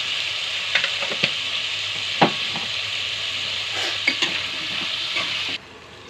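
Ginger garlic paste and spices fry in oil for vegetable biryani, a bright continuous sizzle broken by several quick ladle scrapes and taps, cutting off abruptly near the end.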